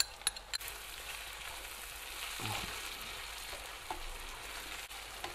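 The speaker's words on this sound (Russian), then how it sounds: "Размешаю и с кетчупом обжарю буквально минутку-две." Minced meat with ketchup fries in a pan for a zucchini lasagna filling, a soft, even sizzle with occasional faint stirring scrapes, fairly quiet and close, no voices.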